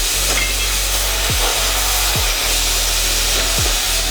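Steel beams being cut for the second-floor beam work in the renovation of a 1981 building, a steady loud grinding saw drone with a few brief pitch sweeps as the cut bites, no voices.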